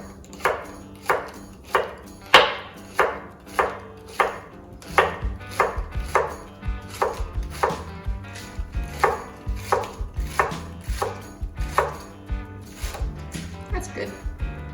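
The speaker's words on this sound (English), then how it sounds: "So we're just gonna give them a rough chop." A knife chops onions roughly on a board in about twenty sharp, evenly spaced knocks that grow quicker and denser toward the end, loud and close, with no talk.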